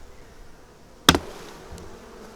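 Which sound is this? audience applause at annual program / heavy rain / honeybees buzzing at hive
honeybees buzzing at hive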